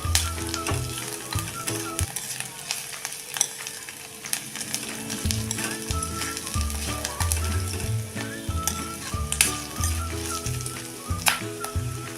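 Chopped onion with grated ginger sizzles in a pan for a potato bhaji, a steady moderate frying hiss broken by repeated scraping and stirring knocks from a spoon.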